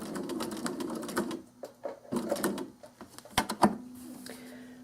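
A sewing machine threaded with monofilament stitches faux-piped binding in quick rattling bursts with short pauses and a few clicks between runs, close and moderately loud, with no talking.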